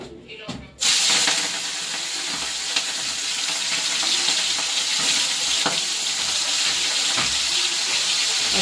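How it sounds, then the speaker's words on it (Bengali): Prawns coated in salt and turmeric frying in very hot oil in a kitchen, a loud continuous sizzle that bursts in abruptly after a brief quieter moment, then holds steady and close. "চিংড়ি মাছটা নুন হলুদ মাখিয়ে ভেজে নেব। তেলটা অনেকটাই গরম হয়ে গেছে।"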